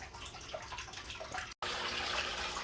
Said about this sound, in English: And there we have water flow. And here's the water coming up.